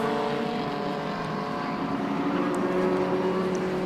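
A Mini Cooper S coupe race car passes at Silverstone, a steady broadband engine drone at moderate distance that holds fairly even throughout, with no voices.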